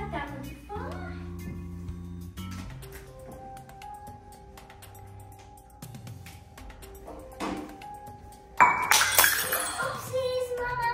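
A drinking glass drops and shatters in a home, a sudden bright crash with scattering shards near the end, after quieter moments of domestic sounds and a voice talking.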